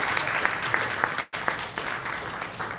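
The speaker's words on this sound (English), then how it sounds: "So let us have a round of applause for Dr." An audience applauds a doctor's birthday at a product launch event, with steady, moderately loud clapping that continues throughout and breaks off for a brief moment midway.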